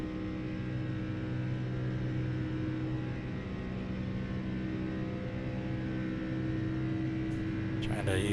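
A steady, loud SRX race car engine held near full RPM while drafting at Daytona in iRacing, a continuous droning whine with no let-up, closing with a brief shift in tone.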